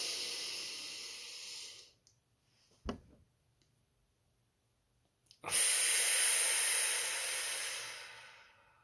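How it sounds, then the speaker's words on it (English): A single deep inhalation during a calming breathing exercise, a soft airy hiss that rises and holds steadily for a few seconds, close and fairly quiet, with a faint click in the silence before it. "Breathe in."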